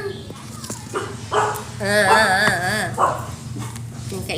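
A dog yelps and barks in a string of wavering, whiny cries, loud and close, with voices talking around it.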